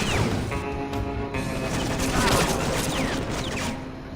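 Enemy gunfire in the CounterSpy video game, a dense, continuous fusillade of rapid shots and impacts that stays loud and steady throughout.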